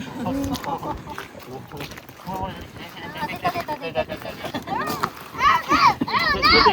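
Children shouting and calling out excitedly while digging for crabs on a wide tidal flat in Japan, voices near and far over open outdoor air, growing louder and busier toward the end.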